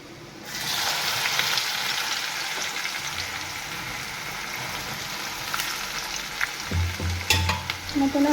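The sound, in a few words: onion added to hot pan and frying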